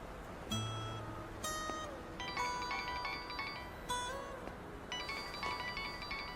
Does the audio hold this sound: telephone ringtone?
yes